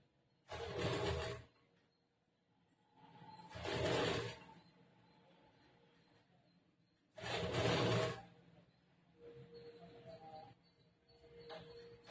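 A sewing machine stitches a blouse slowly, running in three loud separate bursts, each about a second long, then humming more softly and unevenly at the end.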